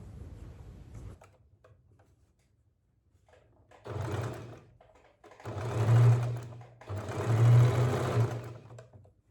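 A sewing machine stitches fabric in three separate runs after a quiet start, each burst a close, steady whir of rapid needle strokes that grows longer and louder toward the end.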